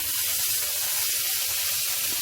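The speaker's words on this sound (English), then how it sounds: "slowly gonna place these chicken pieces one by one" Chicken pieces for butter chicken frying in hot oil in a pan, a steady close sizzle and hiss running throughout with no talking.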